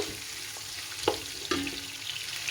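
Onions frying in a pan until brown, a soft steady sizzle with a couple of sharp utensil taps and scrapes, close but fairly quiet, no speech.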